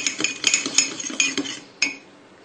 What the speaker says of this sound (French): Il faut mélanger avec une fourchette